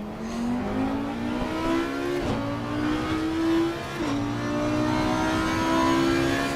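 A race car engine in Assetto Corsa Competizione drones steadily and rises in pitch as it accelerates, with two quick gear-change dips. It is loud and close, with no talk.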